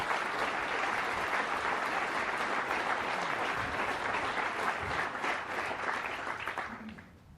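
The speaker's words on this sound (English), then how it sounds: "Can I give her a round of applause, how awesome she is?" An audience at a military relief and appointment ceremony gives a sustained round of applause for a spouse, loud and even throughout before tapering off at the end.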